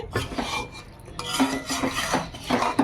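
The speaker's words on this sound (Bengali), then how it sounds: "আমি এবার প্লেটে তুলে নেব।" Chicken kosha is scooped from a cooking pot onto a plate, with metal utensils clinking and scraping against the cookware in quick, close strokes over a light background hum.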